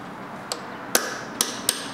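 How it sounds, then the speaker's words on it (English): Four sharp metallic strikes ring out at uneven intervals, a hammer hitting a chisel on a big piece of metal at a bench, close by against a quiet background. "it's a lot easier to hammer and chisel on this big piece of metal"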